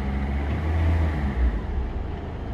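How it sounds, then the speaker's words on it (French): A Peugeot 206 DV4 diesel engine, just fitted with new injector seals, runs loud and close with a deep, steady rumble, swelling slightly as it revs up, then settling back. "on travaille un peu sur le régime, on accélère un peu pour stabiliser le véhicule"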